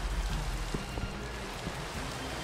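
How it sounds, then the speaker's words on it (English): Heavy rain falls steadily as a dense, continuous wash of noise, with a few brief low thumps breaking through in places. "It's raining so hard."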